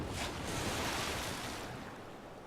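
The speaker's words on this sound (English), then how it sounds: "Let's put a water park in." Waves wash in a water park built in the video game Civilization 6, a soft, broad rush of surf that swells and then slowly fades.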